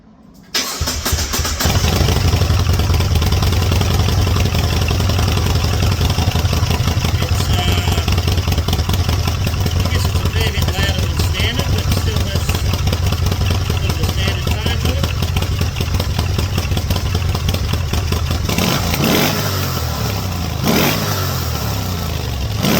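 A Moto Guzzi California 1400 motorcycle with stock exhausts cut open to remove the catalytic converters and baffles cranks and fires, then settles into a loud, steady, throbbing idle close to the microphone, with a brief rise in revs near the end.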